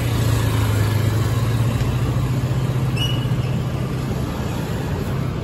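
A motorcycle passes along a city street near a residential tower complex in Quezon City, a steady engine drone amid continuous traffic noise throughout, with no distinct peak.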